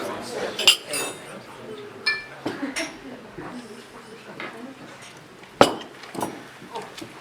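Glasses chink and clink sporadically as guests stand and raise them for a toast to absent friends at a speech, with scattered bright taps, cutlery sounds and murmuring voices in a room.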